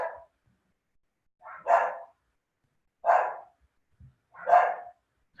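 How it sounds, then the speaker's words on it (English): Dogs in a nearby room bark in four spaced single woofs over several seconds, moderately faint, with silence in between. "Sorry about the dogs."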